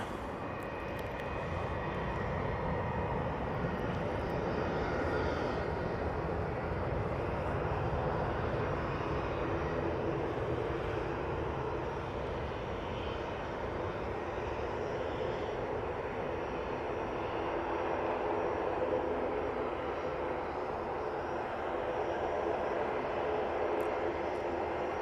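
An airliner arriving from Munich roars steadily as it lands at Manchester Airport, a broad continuous engine rumble heard from a distance that holds level throughout.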